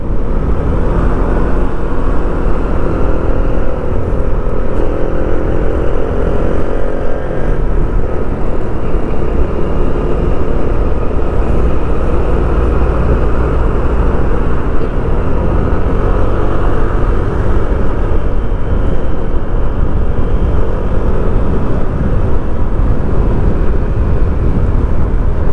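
Honda Click 160 scooter riding steadily on the road, a continuous loud drone of engine and wind noise with no clear changes, no talking heard.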